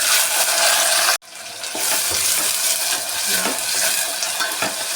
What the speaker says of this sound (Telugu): ఒకసారి కలిపేసుకొని ఫ్రై అవ్వనివ్వాలి. చూడండి, ఉల్లిపాయలు వేగిపోయాయి.